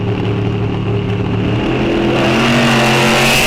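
Mercury Cougar Eliminator drag car with a Boss 351 engine launching hard down the strip at Rock Falls Raceway, a loud sustained engine roar rising steadily in pitch as it accelerates away.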